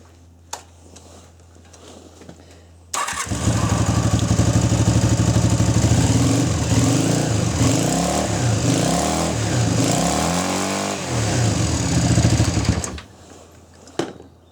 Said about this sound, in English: the ignition won't advance and the engine won't rev up